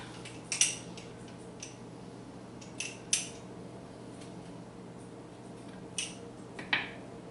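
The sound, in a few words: squeezing garlic into butter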